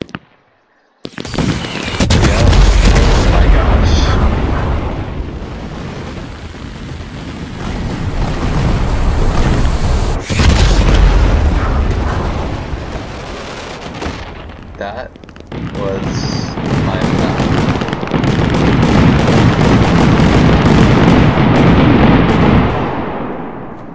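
Fireworks set off inside a gas station, a dense, loud barrage of crackling bursts and booming pops that rolls on continuously for over twenty seconds, rising and falling in intensity.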